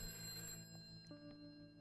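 A telephone ringing in the video game A Way Out, a faint electronic tone sounding over a dense background of steady hums and game ambience, with no talk.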